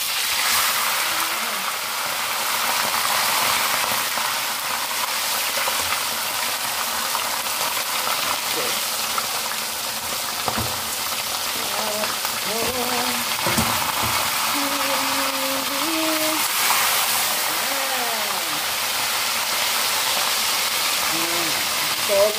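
A large fish fries in hot cooking oil in a pan, giving a steady close sizzle and crackle throughout, with occasional utensil clinks and a voice talking over it.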